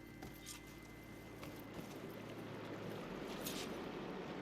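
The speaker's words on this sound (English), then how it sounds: "Aloy, I can hear water in the room again." Water flows and trickles inside a room in the video game Horizon Forbidden West, a soft, steady watery wash with faint splashy flickers, quiet and continuous without speech.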